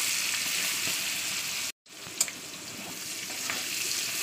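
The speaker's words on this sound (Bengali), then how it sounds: "তেলটা গরম হলে দিয়ে দিচ্ছি পেঁয়াজ।" Onion sizzles and fries in hot mustard oil, a steady close hiss that briefly cuts out, then resumes with crackles and pops.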